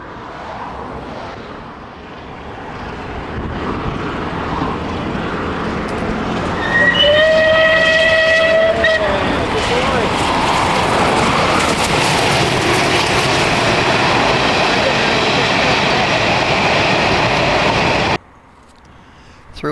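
Southern Railway Bulleid Battle of Britain Pacific steam locomotive 34067 Tangmere hauling an excursion to London Waterloo on the main line, rumbling closer and louder with a sustained whistle blast partway through, then cutting off abruptly near the end.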